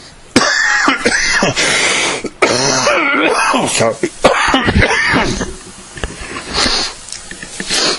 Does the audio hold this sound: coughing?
yes